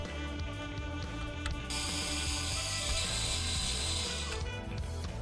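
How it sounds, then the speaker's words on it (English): A screwdriver undoing the fan screws on a Nintendo GameCube console, a close, steady ratcheting, grinding mechanical whir over a dense background, with no speech. "Next, undo the 2 fan screws located here and here."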